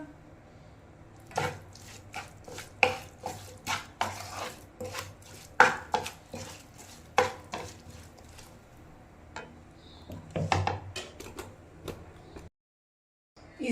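Coarsely chopped onions for a chutney being mixed in a bowl, a series of irregular clinks, taps and scrapes of utensil against dish, moderately close, with no talking, ending in a brief silence.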